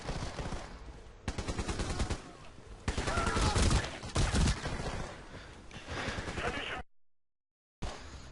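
Rifle fire from the L86A2 and other weapons in a Battlefield-style shooter, heard as loud, dense bursts of rapid shots across most of the clip, then a short silence and one more burst.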